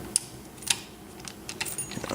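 Keys jangle and clink in short, scattered bursts during work on a Yale 6230 safe deposit lock, close but faint, with a few sharper metallic clicks.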